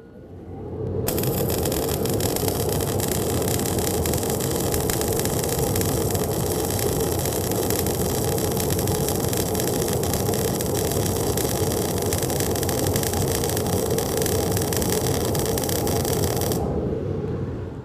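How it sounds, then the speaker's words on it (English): A MIG welding arc, GMAW short arc on DC negative, crackles and buzzes loudly at close range for about fifteen seconds, starting and stopping abruptly. "we just made a weld on DC negative with GMAW's short arc"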